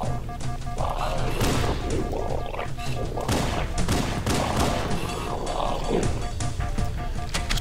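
Repeated bursts of gunfire in the video game Halo, sharp cracks in uneven volleys with crashing impacts, steady and fairly loud throughout.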